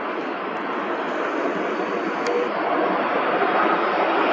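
An Airbus A330-300 jet airliner passing near Atlanta's airport, a loud, steady jet engine roar that slowly builds in strength over several seconds, with no talk.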